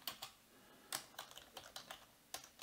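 Keys on a computer keyboard clicking as Arduino code is typed, a quiet run of irregular taps in small bursts with short pauses, alone with no talking.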